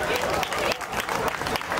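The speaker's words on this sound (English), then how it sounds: "Let's give her a big round of applause." Brief burst of crowd applause at an outdoor Caribbean community lunch in Brixton, dense clapping mixed with voices and chatter from the gathering.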